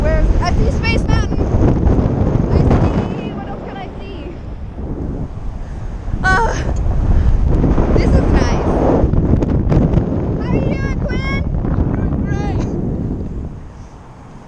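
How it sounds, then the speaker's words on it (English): Wind buffets the microphone at the top of a tall StarFlyer swing ride in Orlando, gusty low rumbling that rises and falls while people talk and exclaim throughout. "It's very breezy."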